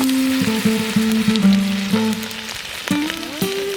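Butter and vegetables sizzle loudly in a camp oven over a fire, a constant crackling fry punctuated by metallic clinks and scraping of a utensil against the pot, close up with no talking.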